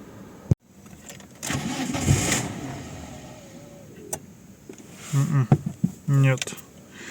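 A car with a suspected faulty throttle body is started after a sharp click, then runs at a rough idle with a few brief engine swells, heard up close amid bursts of nearby talk.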